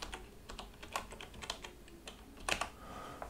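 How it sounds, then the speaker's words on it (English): Keys clack on a computer keyboard as a search term is typed, a quick irregular run of close, crisp taps with one louder burst near the end and no voices. "Type in compressor."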